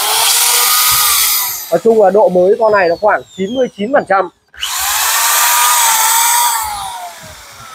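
A Makita hammer drill with a 13 mm metal chuck, a like-new stock unit, whines loudly at steady speed, stops briefly while someone talks, then revs up again at full power.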